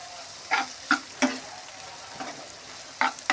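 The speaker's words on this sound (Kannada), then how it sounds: "ಆ ಬೀನ್ಸನ್ನ ಈಗ ಸೇರಿಸ್ಕೊಂಡ್ರಿ ಎಣ್ಣೆಯಾಗನ ಸೇರಿಸ್ಕೊಂಡು ಸರಿಯಾಗಿ ಅದನ್ನ ಮಿಕ್ಸ್ ಮಾಡೋಣ್ರಿ" Green beans are stirred into hot oil in a pan over a low gas flame. A handful of irregular scraping strokes sound close over a faint sizzle, with no talking.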